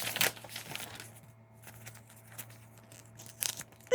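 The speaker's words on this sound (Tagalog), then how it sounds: "Punit." Someone tears open a paper gift certificate envelope, with brief crisp ripping bursts at the start and again near the end and quiet rustling between, close by with no talking.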